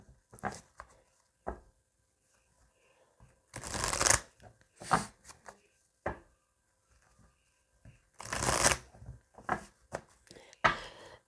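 Oracle cards are shuffled in several loud, close bursts of riffling and slapping, separated by quiet gaps with soft handling taps and no speech.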